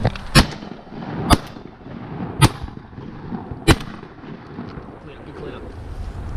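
Four sharp shotgun blasts at waterfowl crack out at uneven intervals during a hunt, loud and near over steady wind rumble against the microphone outdoors.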